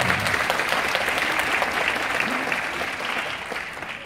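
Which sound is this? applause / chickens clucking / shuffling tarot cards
applause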